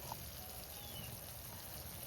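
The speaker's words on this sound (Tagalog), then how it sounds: "Pero lalagyan ko muna siya ng tubig." Water poured into a cooking pan for stir-fried string beans makes a faint, steady hiss that runs unbroken for about two seconds.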